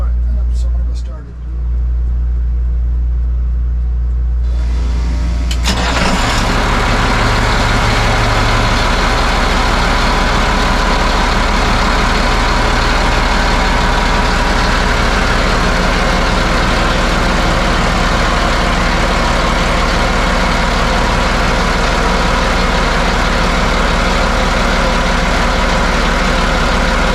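The diesel engine of a Nordhavn 50 boat cranks and starts after a fuel filter change, then settles into a loud, steady, low rumbling idle that carries on unbroken.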